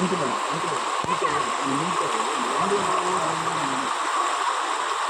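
Continuous rushing flow of floodwater over a concrete road after heavy rain in Puttur, loud and broad, with a faint voice briefly underneath.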